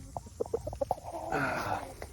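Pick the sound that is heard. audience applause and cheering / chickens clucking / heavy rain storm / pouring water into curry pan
chickens clucking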